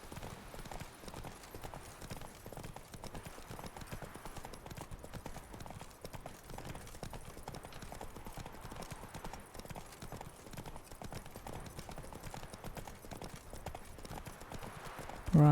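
Steady clip-clop of horse hooves at a trotting rhythm in The Witcher 3: Wild Hunt, moderately close, continuing throughout with a faint background ambience.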